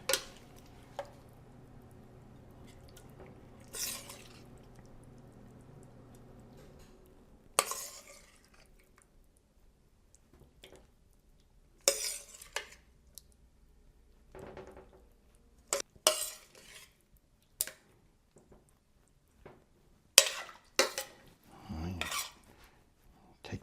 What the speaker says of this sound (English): let's plate this up because I am getting hungry and this looks amazing